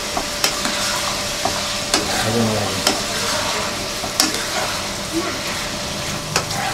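Ground spice paste sizzling with softened onions in a pan for tawa chicken, a steady broadband fry with sharp scraping stirs repeating every second or so, close and moderately loud.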